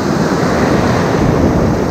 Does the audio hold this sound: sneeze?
no